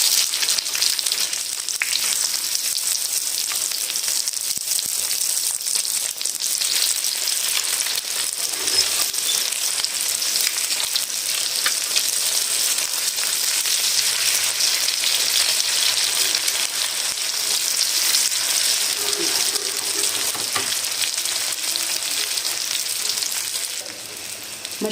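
Chicken shami kebabs fry in a pan after being flipped, giving a dense, continuous hissing sizzle that stays loud and even for the whole stretch, with no voices.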